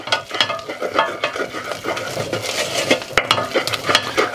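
A spoon stirs velouté sauce against the bottom of a saucepan, making repeated close scraping strokes over a soft bubbling sizzle, with no talk.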